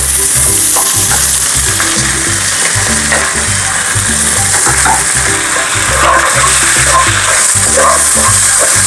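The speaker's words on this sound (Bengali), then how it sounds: "এবার পেঁয়াজগুলো দিতে হবে পেঁয়াজের পাপড়িগুলো ছাড়িয়ে রেখেছি" Onion petals from four large onions fry loudly in hot oil, a dense, continuous close-up sizzle with rhythmic stirring scrapes throughout.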